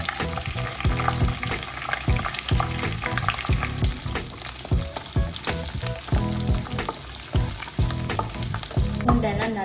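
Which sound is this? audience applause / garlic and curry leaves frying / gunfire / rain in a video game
garlic and curry leaves frying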